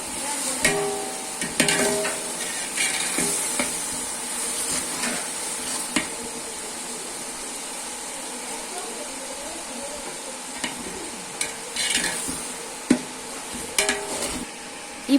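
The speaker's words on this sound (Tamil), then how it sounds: "நல்லா கிளறி விட்டுக்கலாம்." Mutton biryani masala being stirred in a pan: a spoon scrapes and knocks against the metal over a steady low sizzle of frying, with occasional sharper clanks, close and continuous.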